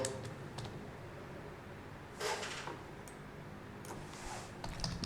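Typing on a computer keyboard, light close key clicks in short bursts and pauses, quiet and without speech.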